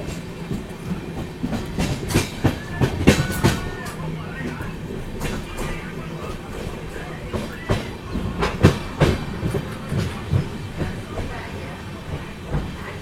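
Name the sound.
train running on rails, clickety-clack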